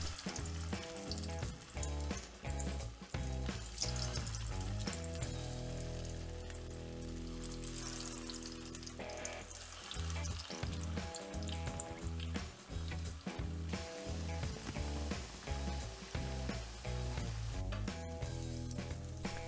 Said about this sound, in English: once the oil is hot, we add the cutlets to shallow fry them